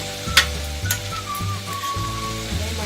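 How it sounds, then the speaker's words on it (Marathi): Masala spices of turmeric and garam masala sizzle steadily in hot oil while being stir-fried for a spicy dry mutton dish, with a constant crackle and occasional scraping stirs close by. "छान मसाला परतून घ्यायचा आहे"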